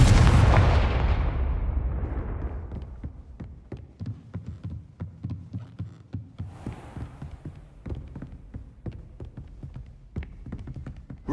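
Confringo blasting spells in Hogwarts Legacy: a big booming blast decays over a couple of seconds, followed by a steady run of rhythmic low thuds and crackling impacts, loud and close.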